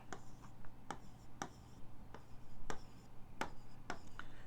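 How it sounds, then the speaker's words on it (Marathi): A teacher writes on a board or paper during an economics lecture, producing a run of sharp, evenly spaced strokes and taps against a quiet room hum, with short softer scratches between them. "4 संकल्पना मी इथं लिहितो."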